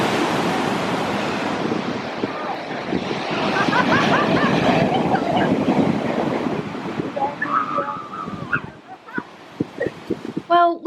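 Waves on an icy sea surge and wash close by, a loud continuous roar mixed with wind buffeting the microphone, easing toward the end as voices break in.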